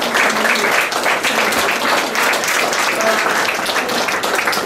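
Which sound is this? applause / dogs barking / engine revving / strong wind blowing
applause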